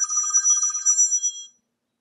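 A cell-to-landline adapter makes an old landline phone ring with an electronic trilling tone, one short burst of about a second and a half, close and clear, then silence.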